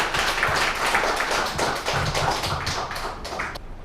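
An audience at a panel discussion on education issues gives a short round of brisk clapping, dense and steady for about three seconds before tapering off. No one speaks.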